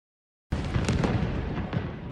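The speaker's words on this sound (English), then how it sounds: "Powerful explosions in Khan Yunis as Israeli warplanes fill the morning skies." After a moment of silence, a heavy explosion booms in, followed by rumbling blasts and sustained roaring noise, loud and dense, from airstrikes in Khan Yunis.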